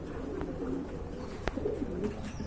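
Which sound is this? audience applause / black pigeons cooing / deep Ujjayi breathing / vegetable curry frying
black pigeons cooing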